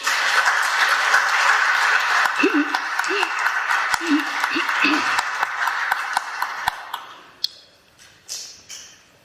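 A church congregation at a memorial applauds in a steady, dense wash. Voices and a few sung tones sit under it, and the clapping thins to scattered claps near the end.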